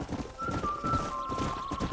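Horse hooves clip-clop in a quick, steady rhythm in the video game Red Dead Redemption, with a brief whinny-like tone riding over the hoofbeats.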